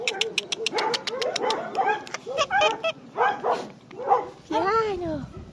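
Several puppies give rapid high-pitched yips and whimpers, bursting in quick irregular runs close by, with a person talking softly underneath.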